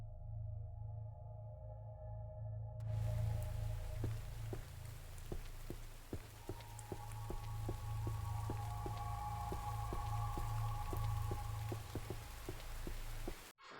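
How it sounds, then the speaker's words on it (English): Steady rain in the video game Labyrinth of the Demon King falls continuously over a low ambient drone, with soft rhythmic thumping pulses running underneath throughout. "Other than the calming rain, of course."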